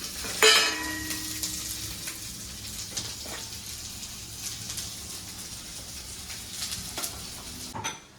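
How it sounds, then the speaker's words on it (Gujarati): Onions frying in a pan on a home stove, a steady soft sizzle running throughout, with a sharp clatter of a utensil against the pan near the start and light stirring knocks. "ડુંગળી ફ્રાય થાય ત્યાં સુધી"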